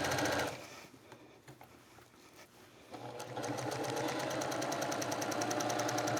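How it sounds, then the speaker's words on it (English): A fast sewing machine stitching a long quilt piece with sashing strips: a short burst, a brief lull with clicking, then a steady rapid whirring run, close and clear. "this machine, it sews so beautifully and fast"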